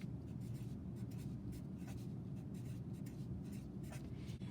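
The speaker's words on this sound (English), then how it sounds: "please write your name" A black Sharpie marker writes a name on paper, its felt tip squeaking and scratching in short uneven strokes against steady low background hum, with no talking.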